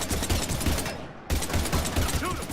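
Dense, rapid gunfire from Mass Effect 3 combat against husks, loud and continuous with a brief gap before the shooting resumes; no talking.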